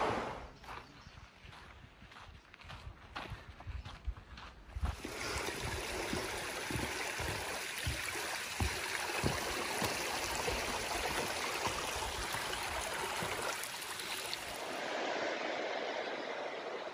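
The San Joaquin River rushes by as a steady, full-band roar. It starts softer with scattered knocks and jumps louder after about five seconds, holding close and constant before tapering at the end.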